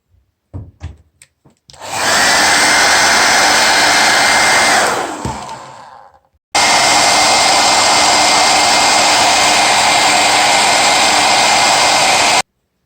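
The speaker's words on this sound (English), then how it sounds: "I just use a hair dryer, just apply a mild heat to this area here for a minute." A hair dryer blows mild heat onto an LG G3 phone that won't turn on, a loud steady whooshing roar that runs about three seconds, winds down and cuts off, then restarts just as loud and holds steady until it stops abruptly.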